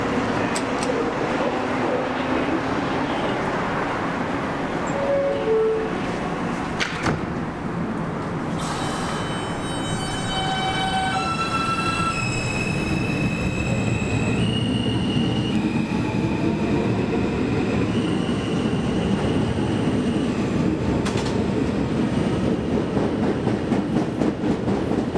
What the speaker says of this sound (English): The far Rockaway bound A train.